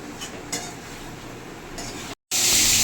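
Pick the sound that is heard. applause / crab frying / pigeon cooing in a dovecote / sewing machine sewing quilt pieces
crab frying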